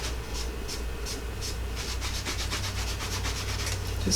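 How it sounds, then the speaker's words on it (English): A microfiber towel rubs over a snowman ornament in a continuous scratchy scrubbing sound with quick repeated strokes, close and fairly loud. "And then you're just going to rub it."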